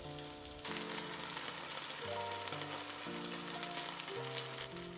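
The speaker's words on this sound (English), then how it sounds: "We'll sear the beef just a few pieces at a time, low and slow." Beef pieces searing in a pan for beef bourguignon, a steady close sizzle and crackle running throughout with a low sustained tone beneath, no talking.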